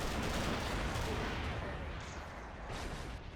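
Laser cannons of a Venator-class ship fire in a space battle in the Star Wars Empire at War Remake game, a dense, continuous barrage of blasts and rumbling explosions, fairly quiet overall.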